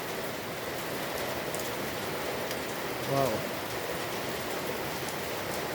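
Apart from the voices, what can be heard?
steady rain falling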